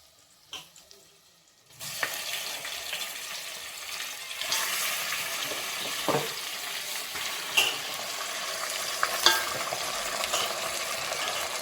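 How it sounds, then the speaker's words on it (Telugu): Mutton pieces hit a pan of reddened onion and tomato, starting a steady sizzle that continues with a few sharper stirring clatters; no voices. "ఇప్పుడు మటన్ ముక్కలు అయితే వేస్తాను."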